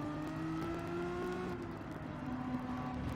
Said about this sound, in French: Faut que j'entende mon moteur, faut que je le ressente.